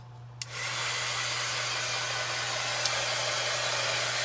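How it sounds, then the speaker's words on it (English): A heat tool switches on and blows hot air with a loud, steady broadband roar and a low motor hum, running continuously at close range with no one speaking. "I'm going to go back in with my heat tool"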